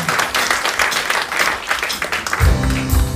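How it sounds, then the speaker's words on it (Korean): A church congregation claps together during a Sunday worship service, steady dense clapping throughout with a low rumbling sound entering near the end. "우리 박수로 격려하겠습니다."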